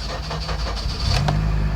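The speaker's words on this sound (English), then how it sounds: "Now the car started." A Honda CR-V engine cranks and starts after fuel pump repair, a close mid-pitched motor rumble that settles into a steady idle hum.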